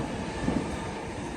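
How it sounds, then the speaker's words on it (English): An Elizabeth line train passes nearby, a steady broadband rumble and wheel roar at moderate level with no talking. "that is the Elizabeth line just driving past"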